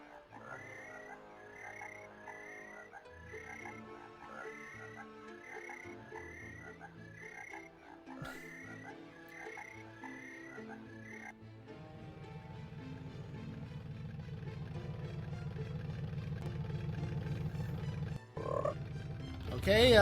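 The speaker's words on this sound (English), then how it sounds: "a crazy random shot of a frog" Repeated rhythmic frog croaks come from the video game Alone in the Dark (1992). They run in a regular pulsing pattern over game music, then give way to a swelling low drone toward the end.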